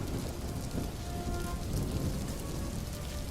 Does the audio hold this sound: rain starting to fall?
yes